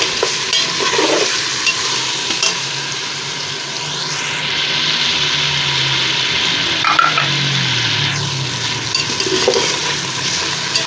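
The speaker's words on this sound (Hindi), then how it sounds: "अब इसमें लहसुन अदरक का पेस्ट शामिल कर देते हैं, इसको भी भून लेते हैं" Garlic-ginger paste frying with chicken in a pan, a steady loud sizzle broken by scraping stirs and clinks of a spoon, with no talking.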